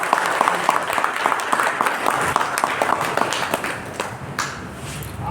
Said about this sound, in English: I think one good clapping should be there for me